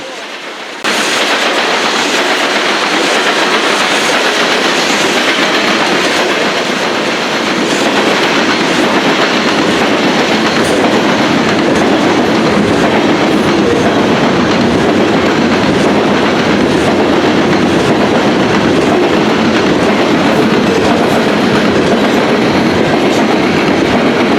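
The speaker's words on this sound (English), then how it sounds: "This coal train transitions onto the Pemberville Subdivision." A CSX coal train rolls past on the railroad track near Fostoria, a loud, steady roar of wheels and wagons with rhythmic clickety-clack that fills the whole stretch without a break.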